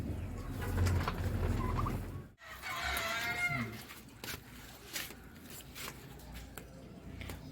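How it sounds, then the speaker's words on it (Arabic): A large male turkey on a small farm with other poultry gives a rapid, warbling gobble in the middle of the clip. Other bird calls and farmyard noise surround it. "وادي الديك الرومي الكبير بتاعنا"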